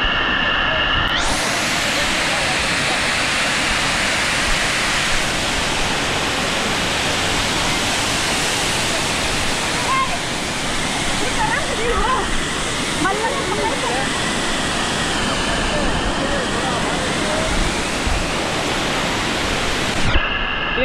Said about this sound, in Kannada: ಇಲ್ಲಿ ಹೇಗೆ ಧುಮುಕ್ತಿದೆ ಅಂದರೆ ನೀರು ಆಕಾಶದಿಂದ ಅಮೃತ ಧುಮುಕ್ತಾ ಇದೆ